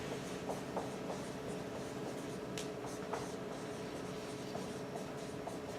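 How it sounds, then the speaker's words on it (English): A lecturer writes a word on a board during a psychology class, with faint scratchy strokes and taps over a constant steady room hum and no voices. "let me write that word"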